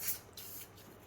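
A couple of quick, faint hissing spritzes from a spray bottle, close by and otherwise quiet.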